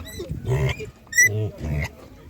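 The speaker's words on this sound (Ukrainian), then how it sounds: "Це буде хороша, хороша м'ясиста свиня." A pig at a livestock animal market grunts and squeals in several short bursts, close and fairly loud, with brief gaps between calls.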